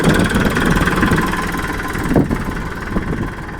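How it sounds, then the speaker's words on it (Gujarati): A brand-new Farmtrac 42 Pro Max tractor engine runs with a steady, rough diesel chug heard close by, with some wind noise over the microphone. "અવાજ તમે જોવો ટ્રેક્ટરનો ખાલી"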